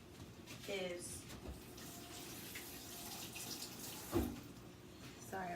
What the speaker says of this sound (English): I just had to rinse my hands off